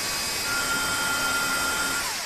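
Dental implant drill turning a marking burr, a steady high-pitched whine with sustained tonal lines and slight pitch drift near the end, loud and continuous with no talk.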